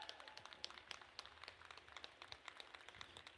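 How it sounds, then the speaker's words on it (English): Fans from both the Northampton and Easton sides applaud after a middle school hockey playoff game for the Phantoms Cup, a dense, steady patter of clapping heard from a distance inside the rink, with no voices on top. "Applause from the fans, both sides of Northampton and Easton."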